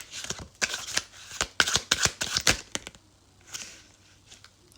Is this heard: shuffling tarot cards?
yes